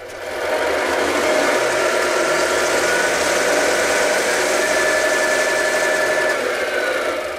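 A Tamiya RC truck fitted with a multi-function unit plays a simulated engine sound in third gear. It is a loud, steady, close electronic engine drone with a high whine that holds throughout.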